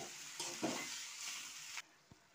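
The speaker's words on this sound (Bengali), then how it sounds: "পেঁয়াজগুলো আমার প্রায় ভাজা ভাজা হয়ে গিয়েছে চিংড়ি মাছের সঙ্গে" Prawns fry with onions and tomato in a pan, a loud, steady sizzle with scraping stirs for nearly two seconds before the sizzle abruptly cuts out.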